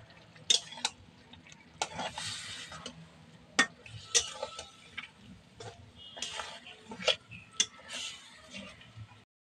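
Spoon scraping and clinking in a pan while fried brinjal and spinach are stirred together, village style: a run of irregular sharp ticks and scrapes, close and moderately loud, with no talk.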